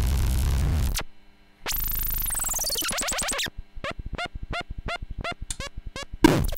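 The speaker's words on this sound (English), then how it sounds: "So let's keep listening to the starve and choke without distortion." Electrolobotomy Hadron Collider harsh noise pedal in starve and choke modes with no distortion. It gives dense static and screeching bursts, then a gap, then a harsh sweeping blast, then a rapid string of choppy, sputtering chirps. Loud, with no talk.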